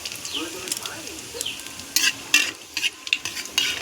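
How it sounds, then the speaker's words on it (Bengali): Cumin seeds and two bay leaves hit hot oil for a crab curry, a close, steady sizzle with sharp bursts and scraping stirs of a utensil against the pan, with a voice briefly heard early on. "গরম হয়ে গেছে জিরেটা দিয়ে দিচ্ছি দুটো তেজপাতা দিয়ে দিচ্ছি"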